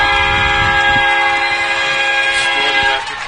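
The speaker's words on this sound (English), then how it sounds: "They have incorporated a train horn." A loud, sustained train horn blares at a high school football game in Musselman, holding a steady chord for about three seconds before cutting off, with crowd noise beneath.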